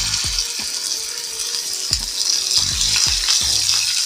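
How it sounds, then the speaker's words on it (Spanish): Beef burger patties sizzle and fry in a hot pan with a steady, bright crackle, while occasional soft pops and scrapes sound close by. "Vamos a poner nuestra carne a sofreír."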